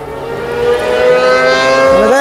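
Sidecar race engines scream past at the Isle of Man TT, a loud, high-pitched whine that rises and shifts in pitch as the machines pass close by, with no talking.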